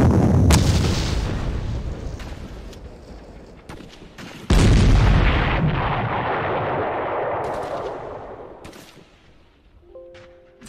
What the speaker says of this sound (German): Artillerie.